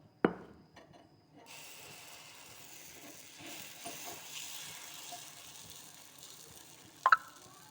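Wheat dosa batter hits a hot pan with a sharp clack, then settles into a faint, steady sizzle with light scraping, and another brief metallic clink sounds near the end.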